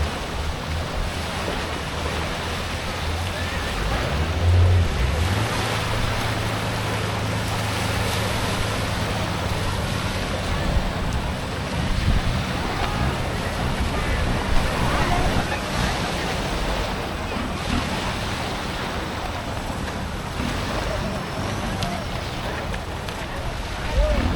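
Surf washing on Thale Waek beach in Krabi, Thailand, a continuous loud roar of waves with wind buffeting the microphone and occasional low boat-like rumble, with people talking throughout.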